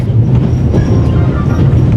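A train rolls along in The Raven: Legacy of a Master Thief, giving a steady low rumble with faint rattling that carries on unbroken throughout.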